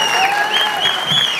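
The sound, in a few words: audience applause at film audio launch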